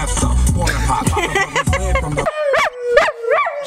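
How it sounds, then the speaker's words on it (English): After a burst of loud music, a dog gives three sharp, high yips close by, each sliding into a thin whine that carries between them. "She's like barking directly to the mic."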